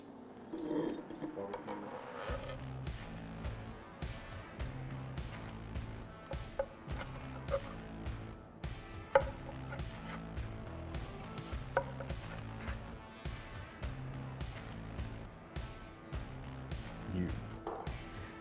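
A knife slicing through a pulled pork Cuban sandwich with ham, Swiss cheese and pickles, heard as repeated steady sawing strokes with crusty scrapes, close up, with occasional talking.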